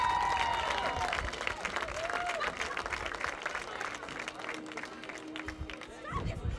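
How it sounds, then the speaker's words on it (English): Applause rises from a crowd gathered for the 2018 Classic Suburban Championship ultimate game between WBL and Mahtomedi, honoring all-conference winners; steady mid-distance clapping with chatter and cheering mixed in, fading slightly near the end. "Let's hear another round of applause for our all-conference winners"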